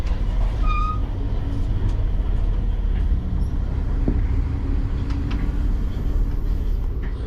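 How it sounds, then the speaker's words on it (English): Amtrak Coast Starlight train running on the rails between San Francisco and Los Angeles, heard from inside a bedroom suite: a continuous low rumble with steady track noise and faint rattles. "The sound of the train and the rails truly make this a wonderful experience."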